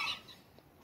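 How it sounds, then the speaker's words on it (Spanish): Chickens and roosters on a small home farm give a short burst of clucking right at the start, then fade to quiet farmyard background. "Están los demás, gallinitas, gallos."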